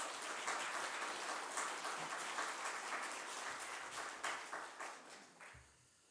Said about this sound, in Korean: 우리 감사의 박수 또 하나님께 영광의 박수를 하면서 목사님 모시겠습니다